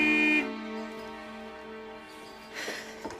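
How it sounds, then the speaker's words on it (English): Car horn blaring loudly with a steady tonal blast that cuts off abruptly, followed by quieter outdoor rustle and a second fainter honk-like swell near the end. "George, she said you can honk the horn all you like, but it's giving her a migraine."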